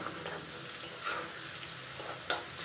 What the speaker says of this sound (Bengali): আলাদা করে ভাজলেও হতো, কিন্তু আমি একসাথে ভেজে নিচ্ছি।